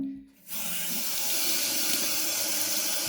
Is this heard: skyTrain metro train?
no